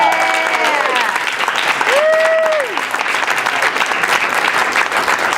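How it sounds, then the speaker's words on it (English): An audience at a Berklee jazz combo performance gives Steve a dense, sustained round of applause, steady throughout, with a few voices calling out over the clapping. "I think we really should give Steve a nice round of applause."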